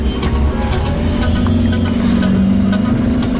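Interior engine drone of a hitchhiked family car on the road to Ruteng on Flores Island, a steady mid-pitched hum with slight revving, close and continuous.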